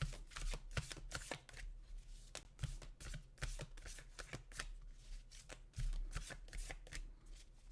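A deck of oracle cards is shuffled by hand, producing repeated close, crisp riffling and slapping bursts in an uneven rhythm with brief pauses between them.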